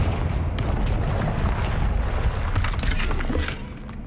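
A Confringo spell explodes in Hogwarts Legacy, a loud, dense blast of booming rumble and shattering debris that holds steady for several seconds before easing slightly at the end, with no talking.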